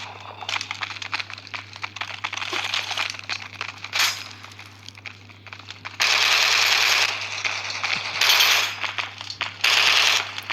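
Rapid bursts of gunfire from the video game Carnage Wars crackle in loud, dense runs, broken by short pauses and punctuated by sharp metallic clinks.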